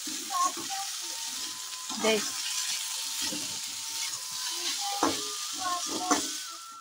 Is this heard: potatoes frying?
yes